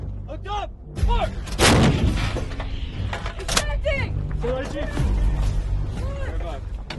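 An artillery gun fires rounds of 40 to about 110 pounds, the loud booming blast landing early and ringing out while crew members shout commands and talk throughout.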